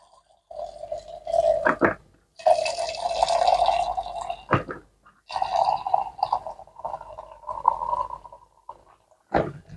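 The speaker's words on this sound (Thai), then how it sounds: "แล้วก็เติมน้ำร้อนจากกระติก สงไปให้ท่วมไข่ พอประมาณนะครับ" Hot water pours from an ordinary thermos flask over eggs in a container for onsen eggs, a gurgling stream in several separate bursts with short pauses and a sharp clink or two.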